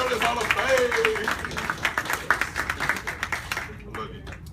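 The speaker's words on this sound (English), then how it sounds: "let's give a big round of applause" Audience clapping at a journalists' Hall of Fame induction ceremony, a steady burst of applause from a crowd that thins toward the end, with a voice faintly over it.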